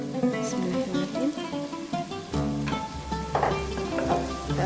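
Shallots, garlic, ginger and ground spices sizzling steadily in a hot pan while being stirred, with spatula clinks and scrapes over the continuous frying hiss, close and fairly loud.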